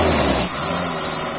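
Toyota Kijang engine with a faulty ignition coil, heard close and loud as a steady broadband rumble that drops from a raised rev toward a rougher idle, with no talk over it.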